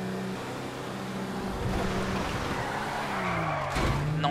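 A car drifts in GTA V, tires squealing loudly and steadily for the whole stretch over a droning engine, with a brief squeal shift near the end and no voices.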